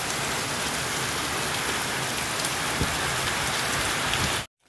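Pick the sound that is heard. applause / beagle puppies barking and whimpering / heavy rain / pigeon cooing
heavy rain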